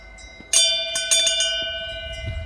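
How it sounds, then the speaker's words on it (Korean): A metal wind chime in a garden rings out with a few bright, clear strikes whose tones hang on and slowly fade. The chime is heard alone at moderate volume. "아, 이 풍경 소리가 너무 좋습니다."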